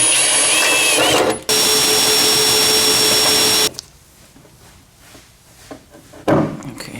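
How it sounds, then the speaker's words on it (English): A loud, steady power-tool whine runs for a few seconds with a brief stop, then cuts off, leaving quiet room noise and a faint clatter. "So now I gotta drill some holes."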